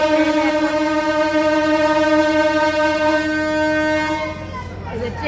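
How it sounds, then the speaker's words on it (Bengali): The Chitra Express, a Bangladeshi passenger train, sounds a long, loud, sustained horn as it departs the station in rainy weather, the blast holding for several seconds before fading under rumbling wheels. "ট্রেন এখন একটা ছেড়ে যাচ্ছে"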